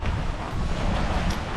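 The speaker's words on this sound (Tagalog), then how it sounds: "At for today's vlog ay napakalakas ng hangin." Strong outdoor wind buffets a microphone in steady, loud, rumbling gusts beside a bahay kubo under construction, with no talk and no pauses across the short stretch.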